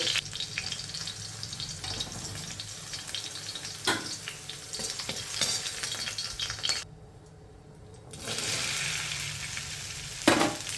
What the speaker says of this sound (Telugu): ఆ మిగిలిన బెండకాయ ముక్కలను కూడా ఫ్రై చేసేసుకోవాలి